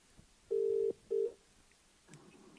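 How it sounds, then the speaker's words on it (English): Telephone tones play while a call is being placed: two steady, fairly loud beeps, one longer and one shorter, followed by a faint clatter near the end. "So, okay, we're going to call Matt Ford now, okay?"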